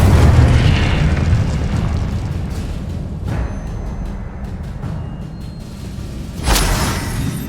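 A fiery Incendio spell blast in the video game Hogwarts Legacy: a heavy booming burst opens the moment, then rumbling decay, with another sharp surge of fiery noise near the end.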